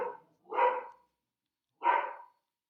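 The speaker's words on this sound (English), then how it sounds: "sorry about the dog" A dog barks indoors, a close pair of short rough barks followed after a pause by a third, with silence between and no talk.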